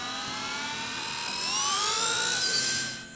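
A Blade mCP X 2 RC helicopter spools up for takeoff with a high, whining motor and rotor tone that climbs steadily in pitch and grows louder, close and continuous, with no talking.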